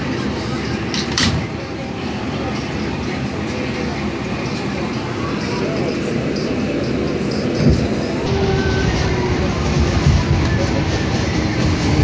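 A New York City 7 local subway train rumbles loudly and steadily along the tracks, with a constant low roar, occasional clunks and a faint rising whine near the end.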